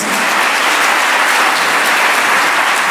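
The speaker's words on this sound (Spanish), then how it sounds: "Y fuerte el aplauso para todos ustedes." Loud, dense applause from an audience at an in-person vocational training gathering, a steady roar of clapping throughout with no speech.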